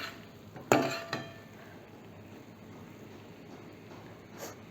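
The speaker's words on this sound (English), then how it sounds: "Just giving a gentle mix now." Brinjal and fenugreek-leaf (methi) sabzi being stirred in a pan, with a sharp utensil scrape and clink followed by a second lighter one, then a soft, steady cooking hiss with no talking.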